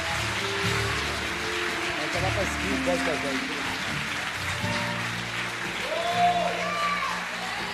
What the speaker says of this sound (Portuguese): Você vai dar o melhor aplauso que você deu hoje para Jesus